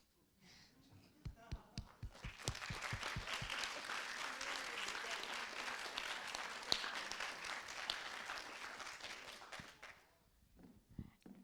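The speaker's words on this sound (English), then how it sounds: "please another round of applause for Osley" An audience breaks into loud, sustained applause with dense clapping and a few whoops, swelling after some scattered early claps and holding for several seconds before tapering off.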